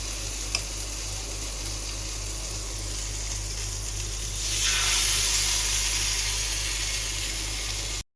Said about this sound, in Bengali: যে এটা হচ্ছে সেই ম্যারিনেট করা আমার পনিরগুলো। এবার এগুলোকে আস্তে আস্তে প্যানের ওপরে দিয়ে দেবো একটা একটা করে।